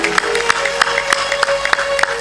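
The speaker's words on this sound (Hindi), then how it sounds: "तालियां जोर से बजाया करो।" An audience at a Hindu religious discourse claps along, with sharp, fairly regular claps standing out over a sustained tone and faint background murmur.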